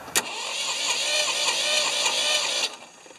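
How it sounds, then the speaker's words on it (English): A Ford 2600 tractor engine cranks over on the starter, a steady whirring churn lasting under three seconds that begins with a sharp click and then stops, with no talking. "And we're going to crank the engine over"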